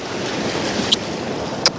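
Surf washes steadily onto a beach at Banff and Boyndie Bay while fishing, a continuous broad rush with wind buffeting the microphone and two brief sharp knocks near the end.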